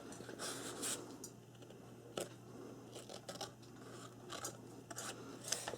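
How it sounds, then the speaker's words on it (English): Tim Holtz scissors cutting through chipboard for a camera album box, a steady series of close, crisp snips and rasping cuts with a few sharper clips, no talking. "Sometimes you might have to use your scissors. The Tim Holtz scissors work really good on chipboard,"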